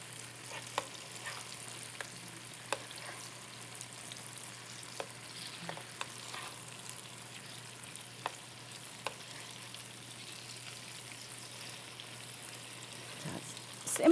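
Tofu pan-frying over low heat makes a faint, gentle sizzle with sparse soft crackles above a low steady hum, quiet and close.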